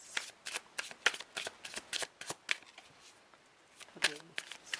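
A deck of playing cards being shuffled in a loose, messy way during a card reading, with a rapid series of crisp riffling bursts close up and a brief voice near the end.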